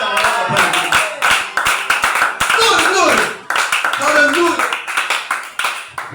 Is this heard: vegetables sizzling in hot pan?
no